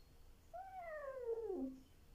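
A single drawn-out meow from a female house cat, rising then sliding downward over about a second and a half, close and moderately loud in a quiet room with no talking.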